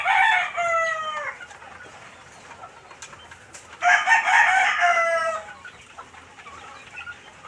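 A Golden Boy rooster crows loudly twice, each call drawn out over about a second and a half, with a quiet pause between and soft clucking and farmyard noise in the background.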